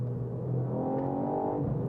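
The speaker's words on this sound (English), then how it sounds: "you can hear that exhaust, and it's backfiring there quite nicely" A 2020 Ford Fiesta ST's exhaust holds a steady, droning rev at high RPM, a close, sustained engine tone with a slight rise and fall and no voices.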